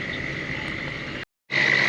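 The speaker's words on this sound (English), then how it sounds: "It's like a southern or American toad. Probably a southern toad." A southern toad calls outdoors at night, a steady, continuous high trill close by that cuts out for a moment and then resumes louder.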